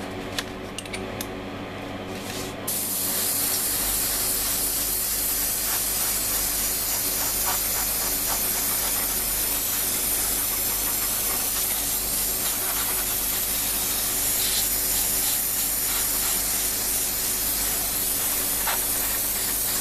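Spray can or airbrush hissing out Mr. Color 182 flat clear coat over a 1:48 MPC Star Wars A-Wing plastic model kit, a steady close spray sound running almost unbroken for most of the clip after a brief quieter start.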